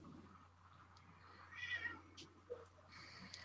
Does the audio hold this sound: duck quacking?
no